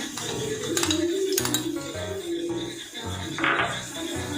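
A spoon clinks and scrapes against a cooking pot in repeated strokes while stirring biryani masala into meat marinated with lemon and yogurt for Kolkata-style chicken biryani.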